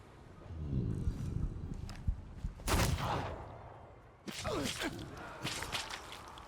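Rifle fire in The Thaumaturge video game: sharp cracks and whip-like bursts break out in a couple of loud clusters against quieter game ambience, with swishing sweeps between the shots.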